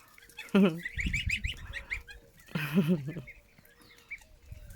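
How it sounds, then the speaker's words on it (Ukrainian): Geese honking in a farmyard on an overcast morning, with two loud bursts of nasal honking calls near the start and middle, plus fainter bird calls in between and a little background talk. "Да? Гусак."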